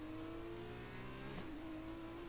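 An F2 race car in a racing game on a wet Dutch Grand Prix circuit, its engine droning steadily and rising in pitch as it accelerates, with a brief gear change midway, continuous and fairly close.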